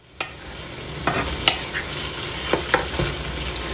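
A burger patty fries and sizzles in a pan, a steady hiss broken by a few sharp clinks and scrapes from stirring or turning, close and fairly loud with no voices.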